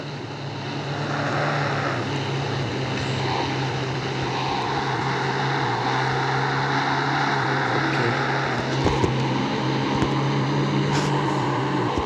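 A jet engine in the video game Indian Bike Driving 3D roars continuously and loudly, holding a steady drone with a low hum underneath and no voices.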